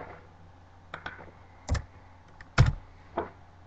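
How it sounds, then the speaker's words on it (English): A handful of irregular key clicks come from a computer keyboard as a command is typed into the Rhino software prompt. The clicks are quiet and close, with near-silence between them and no talk. "we'll open up Grasshopper by typing in Grasshopper into the command prompt"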